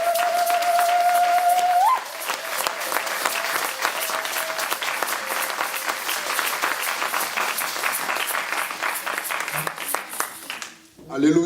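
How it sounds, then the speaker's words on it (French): A church congregation applauds loudly and steadily through most of the clip, a dense roar of clapping from a crowd, after a brief tone at the start and before fading near the end. "On acclame très fort pour la parole de Dieu"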